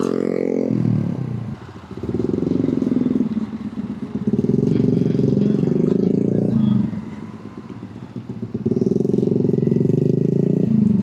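A Honda Navi motorcycle weaves through traffic on the C5 extension, its small engine loud and close, rising and falling in surges as it accelerates, with clattering and rattling between throttle pulls.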